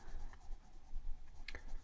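Pencil shading on paper for a shark drawing, a steady close scratchy scribble of strokes with a few sharper scrapes, no talking.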